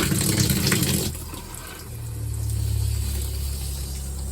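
Water rushes through an RV shower wand during the hot water stage of winterizing a Keystone Premier travel trailer, a steady hiss that changes tone about a second in and then settles into an even low rush.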